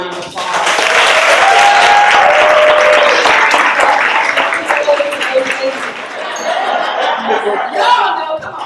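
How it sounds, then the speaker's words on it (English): Loud crowd applause for an event panel, dense clapping with cheers and some laughter, tapering off toward the end. "So let's give our panel a round of applause"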